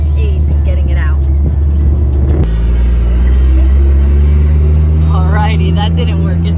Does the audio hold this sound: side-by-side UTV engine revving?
yes